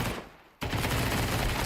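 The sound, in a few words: MP9 gunfire in a video game (Counter-Strike)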